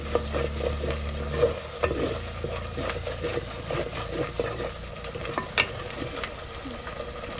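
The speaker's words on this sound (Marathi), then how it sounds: "पूर्ण लसणाचा कच्चेपणा जाऊसपर्यंत आपल्याला हे परतून घ्यायचं" Garlic sautéing in a pan for a village-style chicken curry, a steady close sizzle and fry with repeated stirring scrapes throughout and no talking.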